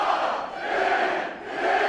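A large wrestling crowd at a PCW Ultra show roars and cheers in a dense, sustained wall of voices that swells and dips slightly, with no commentary over it.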